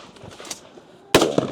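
A single sharp gunshot on a shooting competition stage in Poland, loud and close after a stretch of faint distant pops, followed by a short ringing tail.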